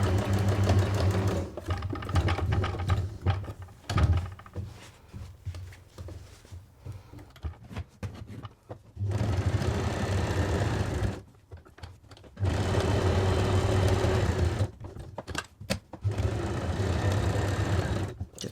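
Domestic sewing machine stitching fabric while a zipped make-up bag is sewn, running in loud whirring bursts that stop and start for pivots at corners, close by with no talk.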